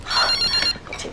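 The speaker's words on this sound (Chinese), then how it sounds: "接个电话" A telephone rings indoors in a home, a short electronic ringing tone with steady harmonics for about half a second, then stopping as room noise and faint movement follow.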